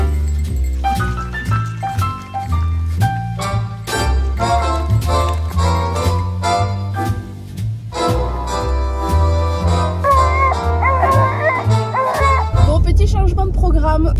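Dogs bark again and again in quick bursts, some yips mixed in, close by, over a steady low hum and talking.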